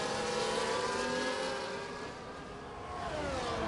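Formula 1 race cars from the F1 24 video game heading down towards Stowe at the British Grand Prix at Silverstone, a steady high engine whine that dips slightly and then swells again.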